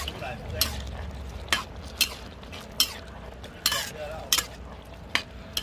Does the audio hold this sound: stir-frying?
yes